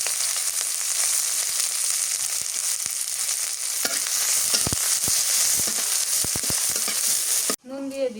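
Garlic, chili and onion fry in mustard oil with a steady, close sizzle, broken by scattered scrapes and taps of stirring. The sizzle cuts off abruptly near the end.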